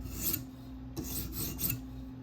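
A K390 steel Delica knife blade is drawn across the abrasive of a TSProf K03 guided sharpener, producing soft, quiet rasping strokes, three or four in quick succession, close up and without talk.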